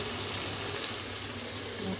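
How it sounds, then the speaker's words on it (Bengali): Bombay duck fish coated in salt and turmeric fries in hot oil, giving a steady, loud, bubbling sizzle with no letup and no talk. "এখন নুন হলুদ মাখানো মাছটা দিয়ে দেবো"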